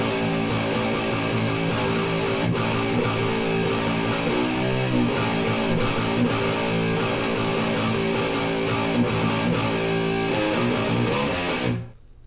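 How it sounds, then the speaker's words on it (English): Distorted electric guitar picking open strings in a riff, a dense, loud sustained metal tone with rhythmic picked notes throughout, cutting off abruptly at the end. "open string picking, it sounds like this."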